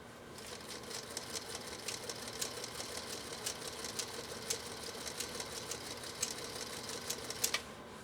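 A Singer Featherweight sewing machine, run from a Bakelite foot control, stitches steadily at close range with a fast, even mechanical clatter throughout.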